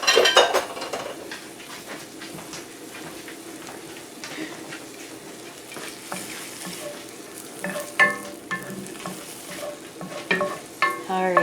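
Wild garlic mustard greens, boiled in salted water, are stirred in a pan: a soft sizzle runs under scraping and clinking of utensils against the cookware, with louder stirring bursts near the end.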